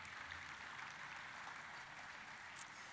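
Applause from the audience at a football celebration dinner follows a singer's performance, a steady, faint wash of clapping heard alone with one brief sharp click near the end.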